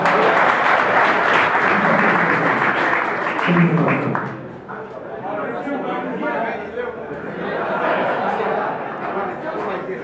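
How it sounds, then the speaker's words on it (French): Applause at the closing ceremony of an LMD-system training session at IFASI, loud sustained clapping that fades after a few seconds into murmuring chatter and voices, with some clapping returning later. "Applaudissez encore une fois."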